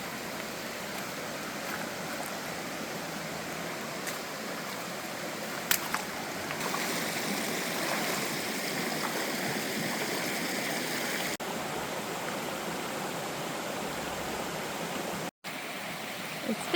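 Soft, steady burble of a flowing creek swollen by recent rain at Little Bradley Falls, constant throughout, with a few faint clicks and one brief dropout near the end.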